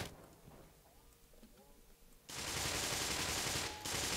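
Machine gun fire from the video game Black Mesa cuts in sharply after a quiet stretch with faint voice and room sounds, then holds as a loud, continuous burst with a brief dip near the end.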